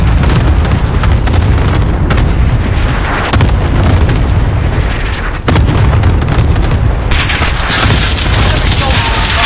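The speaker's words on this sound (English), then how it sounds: "Cluster strike away." Cluster strike explosions in Call of Duty: Warzone, a loud, sustained barrage of booming blasts and rumbling detonations rolling on continuously with scattered gunfire.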